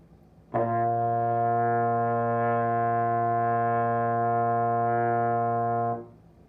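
A single sustained low trombone note held steadily for about five seconds, starting abruptly and fading at the end, played alone.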